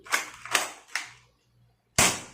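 A toy Nerf sniper-style gun firing four sharp, snappy shots with a short pause before the last one, loud and close.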